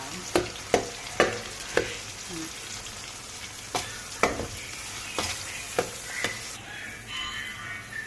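Chicken sizzling in a pan of melted fat with onion and garlic, a steady fry broken by several sharp scraping clacks of a spatula stirring, close by.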